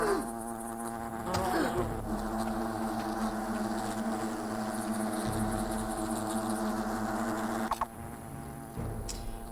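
Wasps swarm around a picnic area in the video game Fable, a dense continuous insect buzz droning steadily and loudly throughout, mixed with game background sound, with no talk.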